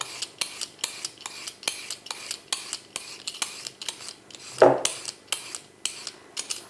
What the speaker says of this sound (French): Je pèle directement mes légumes dans ma poubelle de table